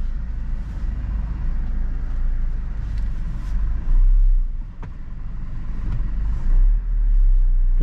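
Toyota Innova Reborn 2022 diesel manual car creeping into a parking spot at home, a steady low engine rumble heard from inside, with a couple of brief swells in the drone.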